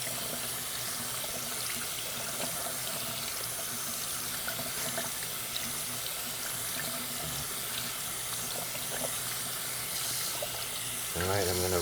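Steady running tap water pours into a sink throughout, with faint splashing and handling as socks are rinsed under the stream.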